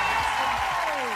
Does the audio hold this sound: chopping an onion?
no